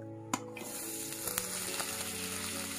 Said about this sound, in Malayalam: ഈ എണ്ണ ചൂടായി വരുന്ന സമയത്ത് നമുക്ക് തേങ്ങ ഇട്ടു